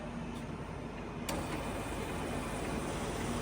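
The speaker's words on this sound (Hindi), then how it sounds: "अभी इसका क्रॉस स्लाइड चलाओ रैपिड में" A TOS SU-80A heavy-duty Czech lathe, 8000 mm job length, with its cross slide moving in motorized rapid travel: a loud, steady broadband machine drone with a faint hum and a brief click partway through, continuous and close.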